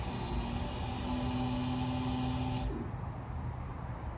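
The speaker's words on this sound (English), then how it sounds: "So the fuel pump ran." A new fuel pump on a 2006 Suzuki SV650 runs with a steady electric hum and high whine, then cuts off abruptly near the end, leaving quieter background noise.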